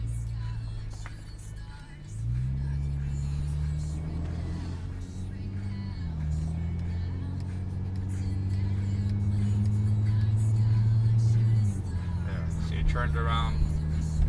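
A 2008-2012 Honda Accord drives and swings through a left turn from a parking lot, its engine droning steadily from inside the cabin and rising in pitch as it accelerates, with a person talking over it.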